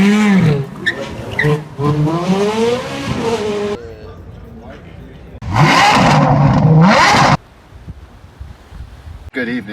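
A 2015 Hyundai Elantra GL 1.8L sedan accelerates hard in first gear in manual mode, its engine note climbing in rising sweeps and then surging again. Loud and close, with wind noise and a voice talking over parts of it.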